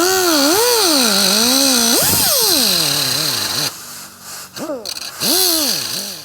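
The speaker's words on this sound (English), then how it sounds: "Now I'm just going to take die grinder, a wheel, safety squints on." A die grinder fitted with a cutting wheel cuts through the spark arrestor of a Beta 200RR race motorcycle, a loud close high-pitched whine that rises and falls in pitch as the load changes, pausing briefly before resuming.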